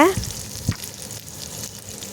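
Dried red chillies sauté in oil in a pan for chutney, with a brief close crackling sizzle and one sharper stir scrape near the start, briefly heard with no talking.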